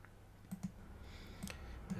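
A few light, sharp computer mouse clicks while printing, spaced irregularly over two seconds against quiet room tone, with no talk.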